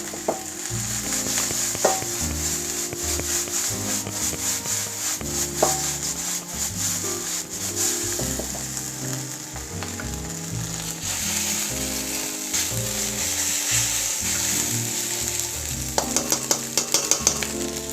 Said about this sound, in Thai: กระโดดกระทะนิดนึงครับ